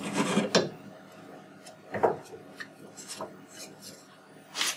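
A metal bar slides and rasps through a roller bearing assembly on a Tormach 8L lathe, producing a couple of close scraping scrapes followed by softer intermittent rubbing and clinks.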